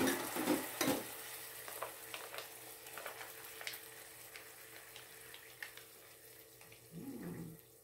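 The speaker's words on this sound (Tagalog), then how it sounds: "So, lagay nyo na po ang inyong gata." Coconut milk pours into a pan of cooking escargot with sizzling and stirring sounds, close and moderately loud, with a brief clatter near the start and a faint liquid swirl toward the end.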